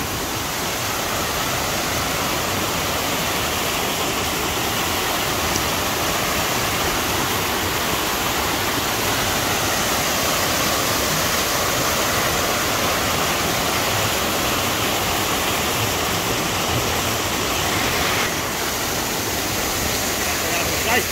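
A water wheel turning in a flowing stream in Blumenau, Santa Catarina gives a dense, constant rush of water, steady and unbroken throughout, with no clear voices standing out above it.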